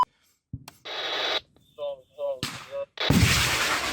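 A Stugna-P anti-tank missile launches with a sharp blast followed by a loud, sustained roaring whoosh, with short bursts of radio-like noise and clicks in between.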